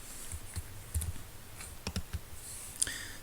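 Computer mouse clicking while picking the sides of a square sketch in FreeCAD, sparse light clicks scattered singly and in quick pairs, close and fairly faint, with no talking.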